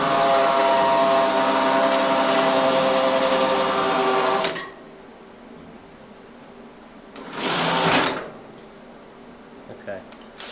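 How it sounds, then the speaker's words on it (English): A power drill bores a hole in a Model A coupe windshield post, a loud steady whine for about four seconds, then a short second burst of drilling after a pause. "gonna drill that other hole."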